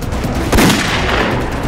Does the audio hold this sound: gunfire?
yes